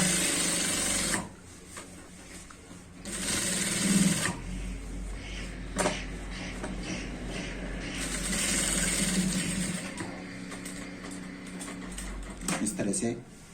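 Sewing machine stitching a loop onto a trouser belt, running in several bursts of a few seconds each, with pauses between them and a voice talking throughout.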